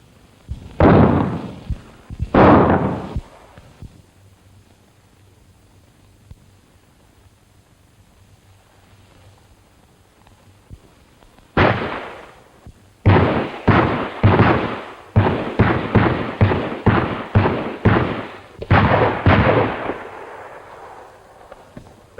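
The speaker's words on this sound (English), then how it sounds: "They don't seem to be shooting in our direction." Gunfire in a western film shootout: several sharp shots crack early, then after a pause a rapid volley of shots and ricochet-like bursts follows, loud and fairly close, with no talk over it.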